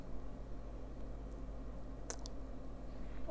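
A single sharp mouse click lands on a confirm button around the two-second mark, short and close, over a steady low electrical hum with no other activity.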